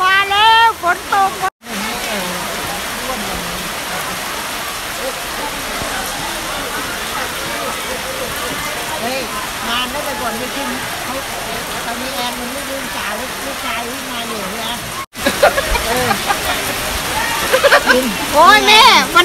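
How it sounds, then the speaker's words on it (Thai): Rain pours down during a Songkran water festival at a Thai temple in Panama City, Florida, a steady hiss of falling water and splashing under excited voices talking and shouting throughout. "ฝนตกฝนตกฝนตก"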